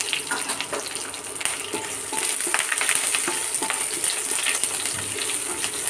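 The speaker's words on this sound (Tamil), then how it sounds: "கருவேப்பிலை, பச்சை மிளகாய், வெங்காயம் அதையும் போட்டு நம்ம தாளிச்சிடுவோம்" Curry leaves, green chillies and onion hitting hot oil for tempering, a steady close sizzle and crackle with occasional stirring clinks, heard alone.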